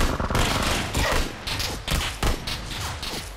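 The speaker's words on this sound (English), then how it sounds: "I'm getting shot from behind as well." Gunfire in the video game PUBG, a rapid series of sharp, loud shots in quick bursts with brief gaps, close and dominant, with mechanical clatter in between.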